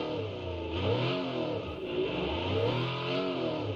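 A rally car's engine in BeamNG revs hard at full throttle, rising and falling in pitch through a couple of loud, sustained surges with no voices.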